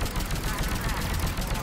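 Rapid gunfire from a gun turret in Mass Effect 3, a dense burst of shots filling the whole moment, loud and close.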